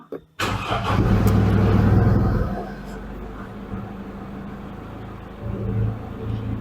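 A Mercedes W204 engine cranks and fires up after a power steering pump replacement, a loud close start with a brief rev that settles into a steady idle rumble.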